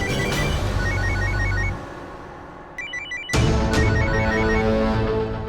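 A telephone rings in short electronic bursts, mixed with a steady hum at first. After a brief lull the ringing picks up again, louder and closer, with no one speaking.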